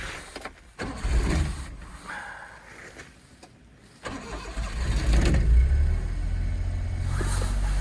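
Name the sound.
Mini car engine starting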